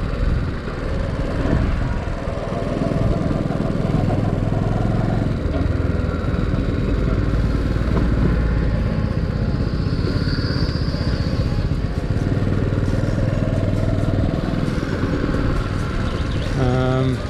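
A Honda C90 motorcycle fitted with a Lifan 110cc semi-automatic engine drones steadily while being ridden on town roads, a continuous close engine note with wind buffeting and occasional talk from the rider.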